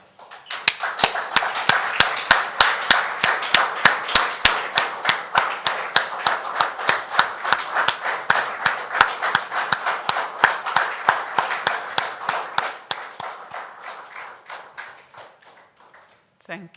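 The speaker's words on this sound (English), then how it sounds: "Shall we all stand and give a round of applause" Mourners at the funeral of Andrew Sardanis stand and give a sustained round of applause. The dense, even clapping holds for about twelve seconds, then thins out and fades to a few last scattered claps.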